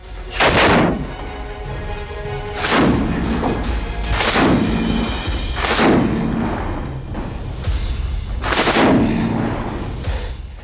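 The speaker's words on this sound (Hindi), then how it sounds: "लगातार आ रही गोलियों की आवाज।" Gunfire and heavy weapons in the Russia-Ukraine war: a series of about six loud, booming shots spaced a couple of seconds apart, each with a sharp crack and a rolling tail over steady background noise.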